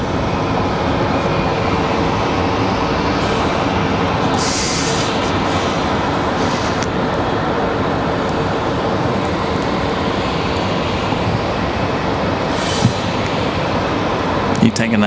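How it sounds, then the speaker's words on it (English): JetBlue Airbus A220 airliner at windy Raleigh Durham airport, a continuous loud engine rumble mixed with wind noise, with brief bursts of hiss partway through. "All right, we got our JetBlue A220"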